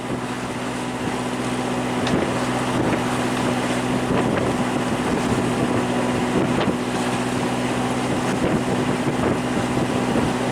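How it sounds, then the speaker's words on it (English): A sailboat cruising on the water off Nassau, a steady loud rush of wind and water with an engine-like hum underneath and occasional thumps of hull against waves. "Sailing back to the Nassau Yacht Club."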